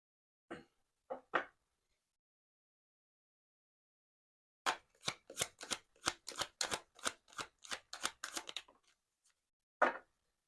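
Tarot cards are handled: a few separate flicks, then a quick run of about a dozen crisp riffling snaps, and one final card slap after a pause.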